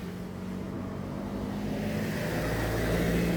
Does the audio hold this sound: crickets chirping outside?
no